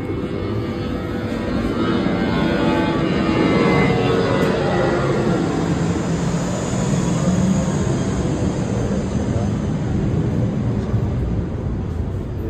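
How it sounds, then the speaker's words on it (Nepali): A low-flying airplane passes overhead near an airport on Koh Samui, a loud, steady broadband engine roar that fills the scene for several seconds without voices. "प्लेन चाहिँ कस्तो तलबाट गयो"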